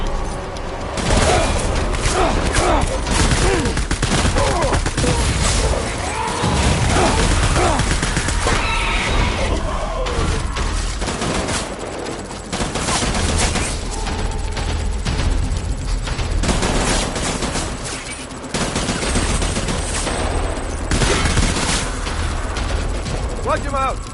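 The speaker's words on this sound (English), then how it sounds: "Shoot the motherfucker!" Bursts of gunfire and booming impacts in a Death Stranding firefight, dense and loud for over twenty seconds, with mechanical clatter and voices talking over the shooting.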